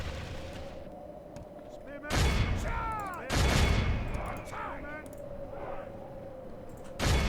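Troops fire missiles in Medieval II Total War as repeated loud booming volleys burst out in clusters over a steady battlefield din, with a voice talking at points.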